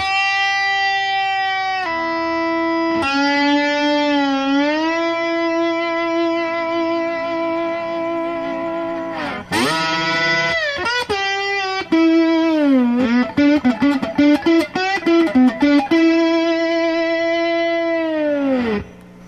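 Lap steel guitar played with a slide bar through heavy distortion, loud and sustained, with long gliding bluesy notes, bends and a burst of quick muted picking near the middle.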